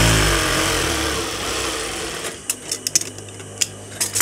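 A sewing machine runs steadily while stitching the seams of a petticoat, then slows and stops, leaving a few short clicks and taps at the end; no one speaks.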